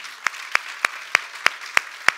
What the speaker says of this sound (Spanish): Le damos un aplauso al Señor esta mañana.